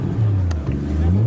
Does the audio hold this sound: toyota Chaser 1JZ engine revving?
yes